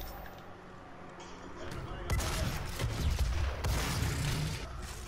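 Mine rounds fired in the shooter game Doom 2016: after a quieter stretch, a burst of loud booming shots breaks out and continues in a dense, rumbling volley under game noise and talking.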